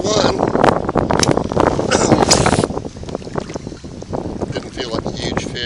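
Strong gusting wind of about 14.5 miles per hour buffets the microphone while fishing from a boat, a loud rough roar that surges and eases, with someone talking over it.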